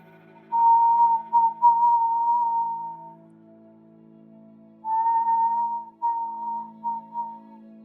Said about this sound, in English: there is this more chilling kind of intentful whistle